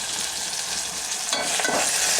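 Curry mixture being stirred in a pan for a bendakaya (okra) pulusu, with steady broadband frying hiss throughout and louder spoon scraping in the final second.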